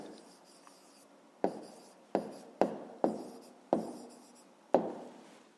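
Pen strokes writing an answer by hand on paper during a fifth-grade maths exercise: a series of short, close scratching bursts, about six strokes in quick succession after a quiet start, with no talking.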